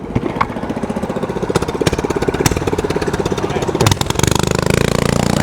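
A small engine on a motorized bicycle runs nearby with a rapid, regular put-put pulse. It holds a steady rhythm, with a brief rise in pitch and roughness near the end.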